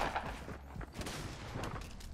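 Distant gunfire from another team in Fortnite, a quiet scatter of muffled shots and short bursts heard from afar throughout, faint and without talk.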